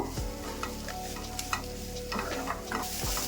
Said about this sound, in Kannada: ಇವಾಗ ಒಂದು ಸ್ವಲ್ಪ ಗೋಡಂಬಿ ಹಾಕೊತಾ ಇದ್ದೀನಿ